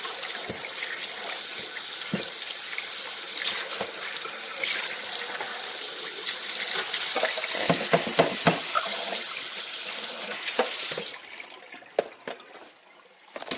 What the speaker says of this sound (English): I'm just rinsing these out real quick so I can take them out of the sink, because they're all muddy